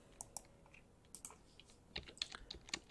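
Computer keyboard typing on a Linux desktop, quick irregular clusters of light close keystrokes, fairly quiet, with no talking.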